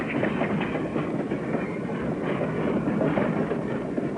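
A train crosses a grade crossing in a played-back recording, its wheels giving a steady rumbling clickety-clack that stays loud and even from start to finish.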